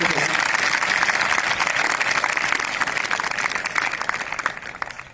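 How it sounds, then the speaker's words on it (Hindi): At a college prize-giving ceremony, an audience gives loud applause to welcome a special guest, a thick sustained burst of clapping that gradually eases toward the end, with faint voices beneath it. "एक बार जोरदार तालियों से उनका स्वागत हो चुका है"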